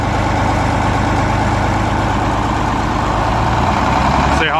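A pieced-together farm tractor engine, due for an injection pump rebuild, runs loud and close with a steady low diesel rumble, slowly climbing in revs. A voice briefly breaks in near the end.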